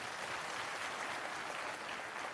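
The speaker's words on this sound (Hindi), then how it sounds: "ऐसे युवाओं की हौसला अफजाई के लिए जोरदार तालियां।" Steady applause from a crowd at a Jan Suraaj digital wing state-level political meeting in Bihar, a dense unbroken wash of clapping heard alone.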